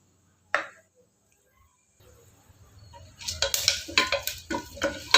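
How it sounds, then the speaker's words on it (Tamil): Cumin and black pepper crackle in hot coconut oil: one early pop, then a burst of irregular, close sputters and snaps building over the last two seconds. "பாருங்க, சீரகம் மிளகு நல்லா பொரிஞ்சிச்சு"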